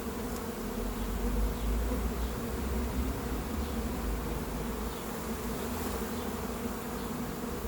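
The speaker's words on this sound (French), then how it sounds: "Ça vole pas beaucoup les abeilles." A settled swarm of honeybees hums steadily, with many wings buzzing together in a dense, continuous drone that stays close and even throughout.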